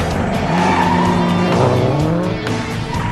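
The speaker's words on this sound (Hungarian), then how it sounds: "Gyorsaságban, mozgékonyságban és trapabírásban semmi sem betekedhet egy ralli autóval." A rally car driving hard and skidding, loud engine roar under squealing tires that slide across the surface, close and continuous for a few seconds, no talking.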